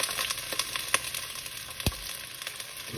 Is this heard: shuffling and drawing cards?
no